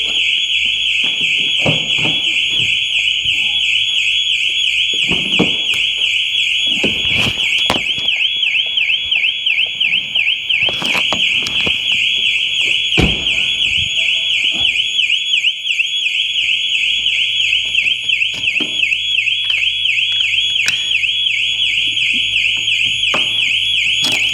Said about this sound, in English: the alarm's going to go off.